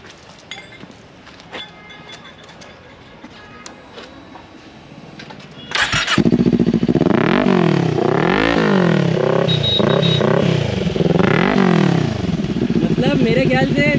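A Kawasaki Ninja 400 fitted with an Akrapovic exhaust, its dB killer removed, cranks and fires up after several seconds of quiet handling noise, then settles into a loud, steady idle with a few throttle blips, close by.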